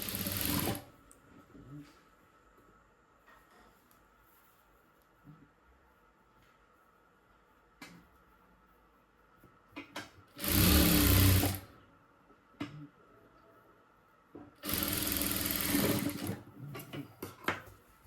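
A sewing machine stitches a blouse patti in two loud, sustained bursts of rapid whirring, separated by quieter pauses with faint handling sounds, heard close.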